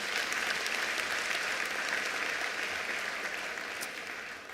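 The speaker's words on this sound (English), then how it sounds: "I'd like us to give a hand of applause to our educators." Sustained applause from an audience honouring educators at a ministerial announcement of national exam results, a dense even wash of many hands clapping throughout, steady and fairly distant, easing slightly at the end.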